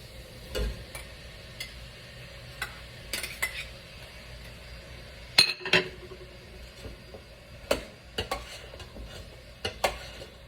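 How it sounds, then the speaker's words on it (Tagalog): Italian sausage stirred in a frying pan, with a spoon scraping and clinking against the metal in irregular bursts over a faint background, close and fairly quiet, with no talk. "So, halu-haluin lang para hindi didikit sa kawali."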